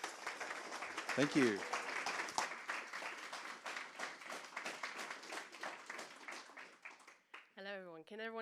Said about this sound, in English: can I have a loud round of applause for Rhianne?